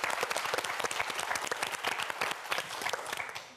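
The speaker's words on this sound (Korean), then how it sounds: "큰 박수 보내주시기 바랍니다" A Korean TV quiz show's studio audience gives a brief, dense burst of applause, close and steady, fading slightly at the end.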